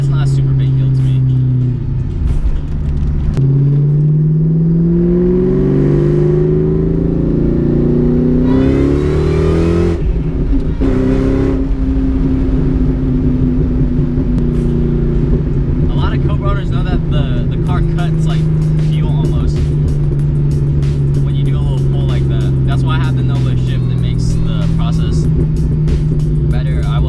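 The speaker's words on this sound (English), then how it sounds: "driving the Cobra to school every day." A Cobra sports car's engine drones while driving, with rising revs and gear-change sweeps, running loud and close beneath someone talking most of the time.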